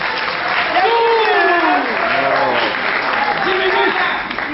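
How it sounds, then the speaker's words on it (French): Wedding guests applaud as a couple is declared married, a steady wash of clapping mixed with voices and chatter throughout. "Applaudissez s'il vous plaît."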